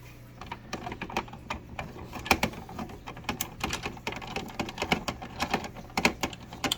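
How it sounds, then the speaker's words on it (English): Screws being removed from a Keurig B60 coffee maker that is not brewing: quick, irregular clicks and ticks of a screwdriver working the fasteners, close and fairly quiet over a low steady hum, no talking. "And you just take them screws out."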